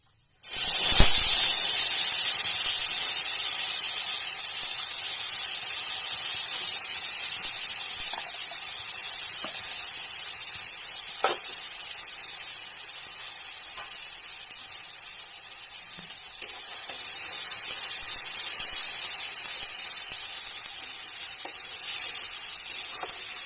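Ground spice paste hits hot mustard oil for a fish curry, bursting into a loud hiss that settles into a steady, close sizzle lasting throughout, with a few faint clinks.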